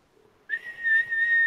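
A voice imitates a very high-pitched whistle blown on a necklace, rising in after a short silence and holding as one steady, piercing tone alone until the end.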